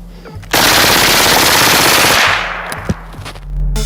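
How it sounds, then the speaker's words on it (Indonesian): A gas-operated, rotating-bolt HK MP7 submachine gun chambered in 4.6x30mm and rated near 950 rounds per minute fires a loud, continuous automatic burst of about two seconds, then the roar cuts off and fades into quieter surroundings. "Senjata ini menggunakan sistem senjata api selektif dengan operasi gas dan bolt berputar, sehingga mampu menyemburkan peluru hingga 950 butir peluru per menit"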